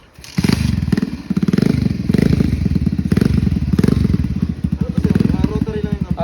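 A Motorstar MSX 125cc manual motorcycle with a dead battery chugs and runs, its engine thumping loud and steady up close, with a voice speaking briefly near the end.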